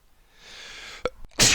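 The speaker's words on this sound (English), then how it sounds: "Excuse me, sneezing." A single sharp human sneeze bursts out near the middle, followed a moment later by a loud, breathy rush of noise, set against a soft sustained tonal drone.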